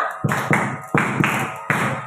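Students in a school hall at SMP Negeri 8 Pekalongan perform a group clapping pattern together, five sharp bursts of claps in a quick irregular rhythm, close and loud with a thudding low edge.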